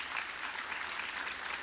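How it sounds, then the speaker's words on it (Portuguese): A church congregation applauds steadily throughout, a dense wash of clapping filling the room with no voices breaking through. "Vamos aplaudir a Jesus pela vida do nosso querido."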